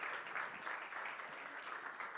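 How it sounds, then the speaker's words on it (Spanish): A church congregation applauds after a sermon, a steady wash of many hands clapping at moderate, fairly distant level throughout, with no voices over it. "Démosle un aplauso al Señor"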